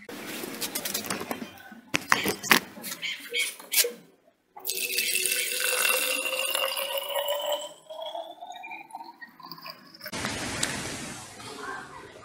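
Strained organic pesticide for vegetables being poured into a sprayer, a close, steady liquid stream whose pitch rises as the container fills, after some brief clattering handling noises.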